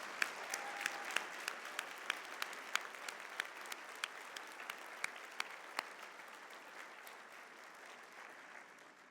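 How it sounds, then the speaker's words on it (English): Applause from the audience at a FIRST Championship Dean's List luncheon as honorees stand, a steady spread-out clapping with a few sharp nearby claps on top, held at moderate level and easing off toward the end. "give them a round of applause"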